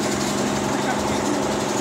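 A fishing boat engine drones steadily and loudly, a continuous mid-pitched mechanical hum with an even throb, close by and unbroken throughout.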